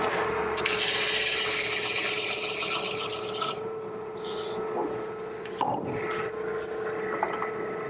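A spindle roughing gouge cuts a spinning wooden blank on a lathe during hollow turning, giving a steady, close rasping scrape that is loudest in the first few seconds and then eases into a softer, continuous cutting hiss with the lathe's hum underneath.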